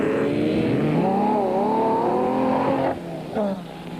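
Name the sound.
off-road race cars racing through a disused quarry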